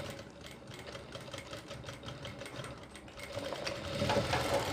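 Close and steady, a sewing machine runs without pause along the curved seam of a kurti collar, a fast even chatter that swells slightly louder toward the end.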